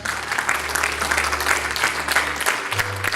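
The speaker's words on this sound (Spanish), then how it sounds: "Denle este aplauso en nombre del Señor." A church congregation claps together in praise to the Lord, a full, continuous round of applause at steady loudness with a low electric hum beneath it.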